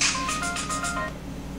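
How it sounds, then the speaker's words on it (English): A phone's text message alert chimes in a kitchen during cooking, a short run of about five bright repeated tones that ring out clearly and then fade. "That's a text message."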